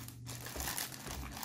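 Plastic packaging around a SteelSeries Apex 7 mechanical gaming keyboard crinkles and rustles up close, a quiet continuous crackling as it is handled and opened.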